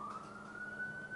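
An ambulance siren wails outside, a single sustained tone sliding slightly upward, faint and distant behind low background noise.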